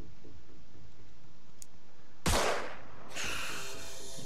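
A single sharp sniper rifle shot rings out in the Xenonauts tactical game, a loud crack with a brief decaying tail, followed by a bright electronic sweep over quiet ambient game sound.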